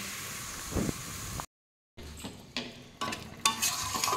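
Pieces of meat are stirred and turned in hot oil with spice paste on a home stove, making scraping strokes over a soft sizzle. The sound cuts out briefly partway through.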